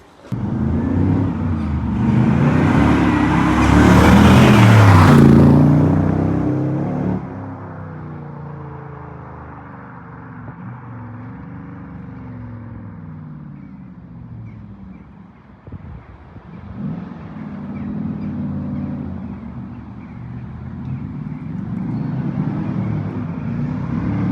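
A 2001 TVR Tuscan fitted with a Chevrolet 5.7 LS DTM race engine drives past outdoors. A loud roaring burst with wind buffeting is followed by a steadier, lower engine drone that swells again toward the end.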